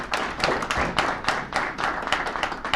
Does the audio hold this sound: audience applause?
yes